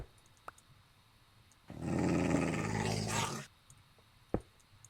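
A low, rumbling dog growl from a video game swells in the middle for about two seconds, close and steady, then cuts off, leaving faint background and a single sharp click.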